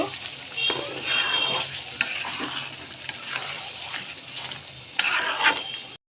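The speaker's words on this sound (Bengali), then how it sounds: "দিয়ে সব কিছু ভালো করে নেড়ে মিশিয়ে দিব" A sweet, sour and spicy olive pickle with sugar is stirred in a pan, producing scraping spoon strokes and clatter over a low sizzle, with a sharper burst of scraping near the end before it cuts off.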